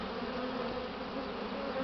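Honeybees buzz steadily in a dense swarm around a beekeeper, a continuous close hum with no gaps.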